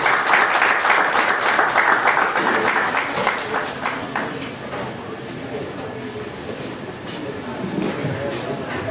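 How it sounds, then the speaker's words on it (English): A round of applause from members at the close of a study circle meeting in Bangalore, loud dense clapping at first that gradually thins and fades, with faint voices underneath. "a big round of applause for that"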